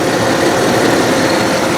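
A BMW 750iL under restoration idles steadily and close, its engine giving a smooth, continuous rumble with no talk over it.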